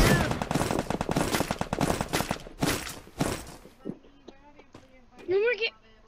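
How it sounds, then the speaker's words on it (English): Rapid automatic gunfire in the battle-royale game Free Fire, loud dense bursts of shots overlapping for several seconds before breaking into a few isolated shots, with people talking over it. "we're surrounded and getting rapidly shot at"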